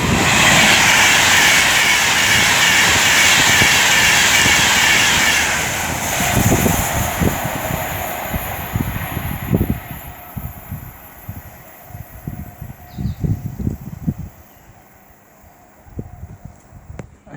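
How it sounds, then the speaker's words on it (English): Avanti West Coast train 39131 on the West Coast Main Line at Tamworth, running from Manchester Piccadilly to London Euston, roars past loud and close, then fades into a rumbling, clattering tail as it recedes. "now about to pass by should be 39131, there he is, for Avanti West Coast, working 1 Alpha 63 from Manchester Piccadilly to London Euston"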